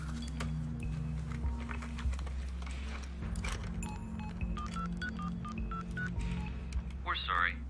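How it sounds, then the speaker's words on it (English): A telephone number is dialed on a touch-tone phone, a quick series of key beeps over a steady low hum. "I phoned her number."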